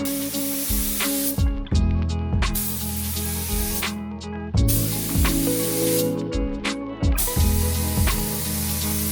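A spray gun hisses paint onto a Mazda MX-5 drift car in long steady bursts, each stopping abruptly, with short pauses between passes and the hiss close and loud.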